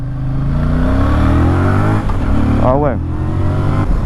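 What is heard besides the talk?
Voge 625 DSX motorcycle engine revving at low rpm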